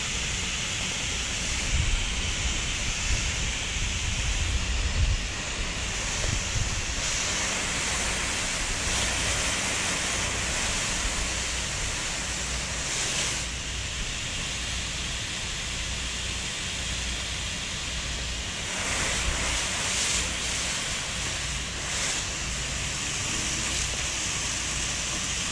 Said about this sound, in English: let's go back to the beginning and we'll rinse.